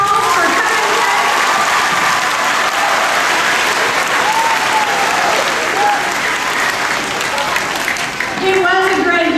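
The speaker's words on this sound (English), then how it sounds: "I think we need to give everybody a big round of applause for coming today." An audience at a 4-H archery event applauds loudly and continuously, dense clapping filling the whole stretch with some voices rising through it near the end.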